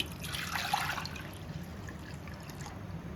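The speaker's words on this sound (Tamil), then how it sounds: "தேவையான தண்ணி ஊற்றிக்கலாங்க." Water poured into a clay pot while cooking an egg gravy, a soft, brief trickle and splash near the start that fades into a quiet, steady background.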